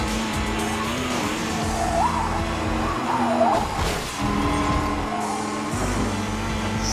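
Car tires squealing and skidding in the racing video game Blur, with an engine droning throughout and several rising squeals and slides across seven seconds, plus a sharp scrape midway.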